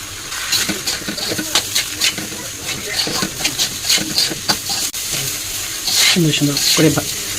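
Washed polao rice frying in a little oil with salt in a pan sizzles under rhythmic, fast spatula scrapes, loud and close, with a voice briefly audible near the end.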